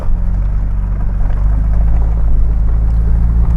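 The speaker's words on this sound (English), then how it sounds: "This is all ice right here that we're driving on." A Toyota 4x4 on Toyo RT Trail tires drives across ice on a snowy hill, the engine a loud steady low drone with road rumble throughout.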